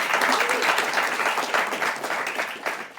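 An audience at a talk event applauds loudly and steadily, with dense clapping close by that runs without pause for a few seconds.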